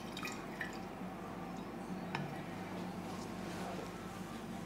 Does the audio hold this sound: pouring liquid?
yes